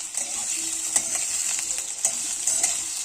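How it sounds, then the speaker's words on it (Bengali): Potatoes fry in a pan with a steady, close sizzle, broken by occasional sharp scrapes and clicks of stirring, and no voices. "আলুটা একটু ভাজা হওয়া পর্যন্ত অপেক্ষা করি।"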